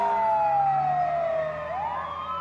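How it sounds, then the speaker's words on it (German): An emergency siren wails close by on city streets, its tone falling slowly and then sweeping back up, loud and steady over faint traffic noise. "Du hörst die Sirene in den Straßen."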